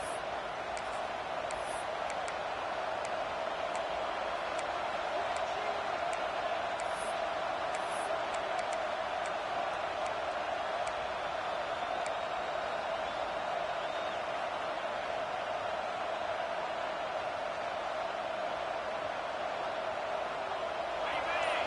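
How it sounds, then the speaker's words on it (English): A simulated stadium crowd in the College Football 26 video game roars continuously as the home fans try to help their defense, a dense, steady wall of cheering noise throughout. "Listen to this crowd just shaking the girders of this place, trying to help their defense."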